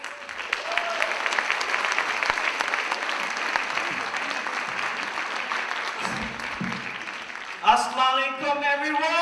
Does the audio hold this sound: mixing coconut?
no